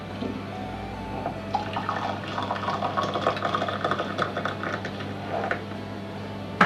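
Boiled water pours from a kettle into a cup of tea, coffee or hot chocolate, a steady trickling splash that runs throughout at moderate level with no talking.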